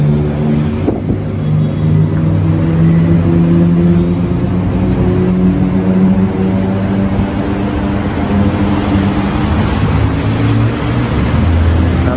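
Traffic rushing fast along a Bangkok street, Thailand, with a continuous loud rumble of car and motorbike engines passing close by, steady and dense throughout with no talking.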